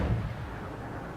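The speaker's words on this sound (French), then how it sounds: "Le Fubuki qui a le culot de tir au canon." Fubuki destroyer guns firing in World of Warships, a single heavy boom opening the clip and then a rumbling low tail that fades slowly.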